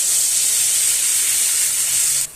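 Water poured onto fried turmeric and Kashmiri chili spice paste in a pan for a homestyle rohu fish curry with cumin and mustard paste, giving a loud, steady hiss and sizzle that holds for about two seconds and then cuts off sharply.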